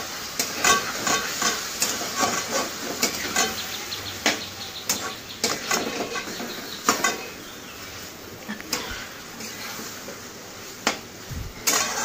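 Potatoes and vegetable stalks fry in a pan with poppy seeds, salt and turmeric as they are stirred, a continuous sizzle broken by repeated scraping and clinking strokes of the spoon at close range, with no talking.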